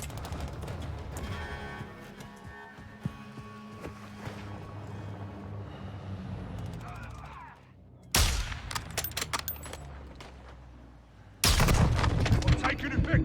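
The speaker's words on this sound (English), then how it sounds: "I'm taking effective fire." Gunfire in the video game Call of Duty Modern Warfare II, with sudden loud bursts of shots breaking in after a quieter stretch of game sound and voices.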